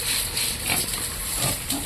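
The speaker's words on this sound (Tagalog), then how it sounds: "Baboy" A mixed-breed pig grunts and snorts close by against a noisy, hissing background, with a few rough bursts over less than two seconds.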